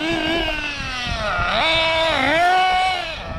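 Dynamite 21 nitro engine in an RC car running with a buzzy, high-pitched whine that holds steady, then dips and climbs again as the revs swing up and down, close and continuous.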